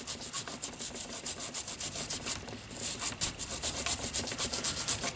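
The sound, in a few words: scrubbing gunk off M1A rifle feed ramps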